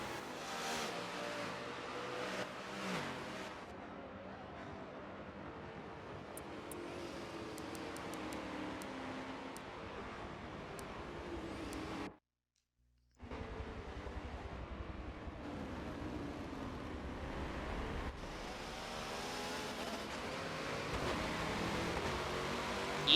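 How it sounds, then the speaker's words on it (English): Race cars in a multiclass endurance racing video game at Long Beach, a continuous engine drone with passing cars in GT traffic, broken by a brief gap of silence partway through, with no talking. "has lost so much time behind Schumacher, and now when he pitted, he's back dealing with GT traffic again"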